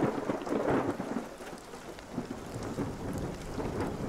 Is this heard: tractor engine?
no